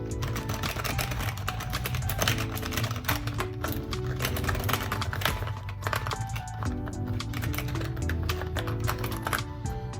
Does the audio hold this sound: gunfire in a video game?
no